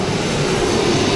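Cargo plane passing overhead at an airport, a loud continuous engine roar filling the whole short stretch with no talk.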